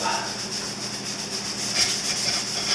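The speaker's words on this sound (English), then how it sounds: "I'm just going to scrub down the whole thing since we wiped Goo Gone all over it." A scrub pad with dish soap rubbing over the side covers of a Yamaha Virago 250 XV250 bobber, a steady close scratchy scrubbing with rhythmic strokes, no talk.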